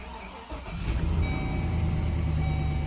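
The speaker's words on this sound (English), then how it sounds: "it sounds like an exhaust leak" A GMC Sierra truck engine with an exhaust leak cranks and catches, then idles with a rough, chuffing rumble and a faint ticking puff, close by.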